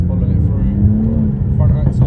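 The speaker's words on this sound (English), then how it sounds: "It's just that B58 popping and banging away, guys." A BMW M240i (F22) with the B58 engine runs through the gears, its exhaust producing low rumbling with irregular pops and burbles, close and steady, with someone talking over it.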